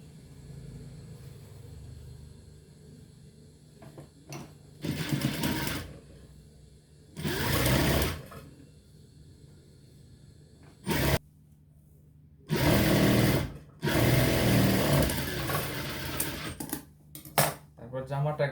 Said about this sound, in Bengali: এখন আমরা সাইড দিয়ে সেলাই করে নিব।